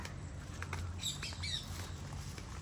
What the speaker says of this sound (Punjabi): ਤੋਤੇ ਬੋਲਦੇ